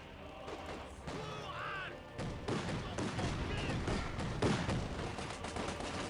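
Rifle and machine-gun fire in the World War II strategy game Company of Heroes 2, in a Dunkirk mission, with repeated shots and bursts and some heavier thuds layered over a dense battle din, with voices faintly mixed in.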